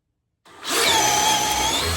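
DeWalt DCD806 cordless drill boring into wood with a paddle bit, a sharp start after brief silence, then a steady, close, high-pitched whine of motor and cutting for over a second.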